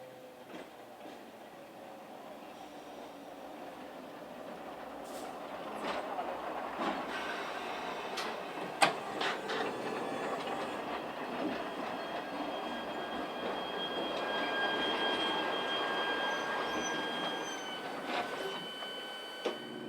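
An electric railcar unit built in 1997 by Ferrima pulls into Torazza station, a steady rolling rumble growing louder with rail clatter, brief clanks and a thin wheel squeal near the end.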